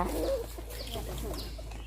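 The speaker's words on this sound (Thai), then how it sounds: "ไก่มิเตอร์ตัวงามๆจ้ะหางยาวๆ ไอ้แจ้ มันแจ้หรือ ไอ้แจ้ป่า" A long-tailed bantam rooster clucks a few times near a temple, its calls rising over a steady background murmur of outdoor ambience.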